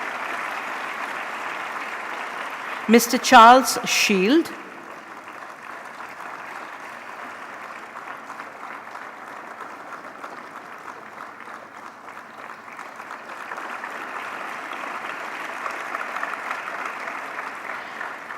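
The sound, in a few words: audience applause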